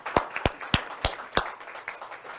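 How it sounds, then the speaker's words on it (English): Sparse clapping from an audience honoring veterinary students at a college scholarship celebration, a handful of sharp individual claps at irregular intervals, fairly faint and thin rather than a full ovation. "I would just like everybody here to give them a round of applause"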